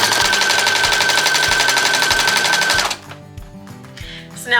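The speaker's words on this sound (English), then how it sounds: "you're just going to sew it down" A sewing machine runs a zigzag stitch along elastic and Velcro for a baby bow tie, loud rapid steady rattling up close for about three seconds, then stopping into quieter handling sounds.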